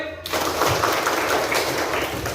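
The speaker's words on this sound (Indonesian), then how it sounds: "Tepuk tangan sekali." A classroom of sixth-grade pupils claps together, and the burst of hand claps carries on as a dense, lively patter that fills the room.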